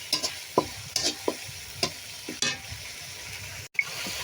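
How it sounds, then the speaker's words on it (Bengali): Spice paste with a little water and a whole bay leaf being sautéed and stirred in a pan, spatula scrapes recurring every half second or so over a steady close sizzle, alone without talk. "মশলা কষানোর জন্য একটু পানি ব্যবহার করলাম। মশলাটা আমি কষিয়ে নিব।"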